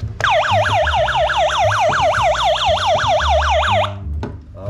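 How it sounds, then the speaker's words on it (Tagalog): Electronic siren alarm of a hand-crank solar radio wailing in a fast, regular up-and-down sweep for about four seconds before stopping, loud and close, with faint background noise and no voices. "Tapos meron siyang alarm."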